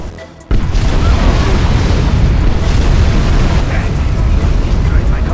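Command center destroyed in C&C Generals, a sudden heavy blast after a brief quiet moment, then a sustained loud rumbling roar of explosion and debris that carries on to the end.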